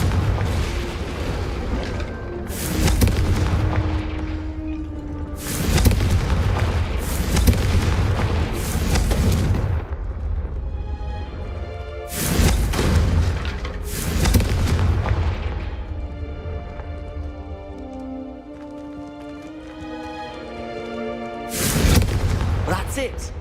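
Confringo fire spell blasts in Hogwarts Legacy, several loud booming explosions spaced a few seconds apart, each with a rumbling tail, separated by quieter game sound and voices speaking.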